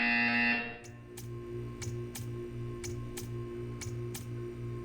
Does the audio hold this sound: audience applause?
no